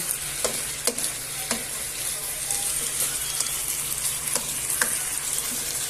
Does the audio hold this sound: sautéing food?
yes